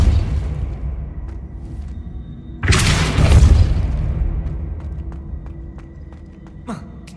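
Depulso force spell cast in Hogwarts Legacy: a sudden loud whooshing blast bursts out midway and fades over a couple of seconds, with a low steady hum and a few faint ticks around it.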